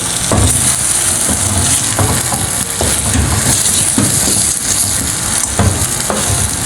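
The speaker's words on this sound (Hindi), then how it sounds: "हम सूजी की अब भुनाई कर लेंगे।" Semolina roasting in a pan of golden caramelized sugar for makhandi halwa, stirred hard with loud, rhythmic scraping strokes about once a second over a constant close sizzle, with no voices.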